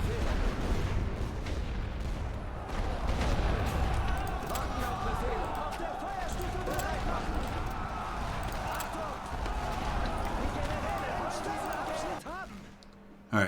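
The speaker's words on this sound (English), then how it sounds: "Maybe some more artillery." Artillery fire in The Great War: Western Front, a World War I strategy game, keeps up as a dense, continuous rumble of distant shelling and gunfire for most of the stretch, with voices mixed in, before it drops away near the end.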